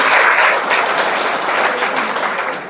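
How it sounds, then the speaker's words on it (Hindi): Students in a classroom break into steady, dense applause that holds at full strength from start to finish, with no voices standing out. "वेरी गुड, ताली बजाओ अपनी"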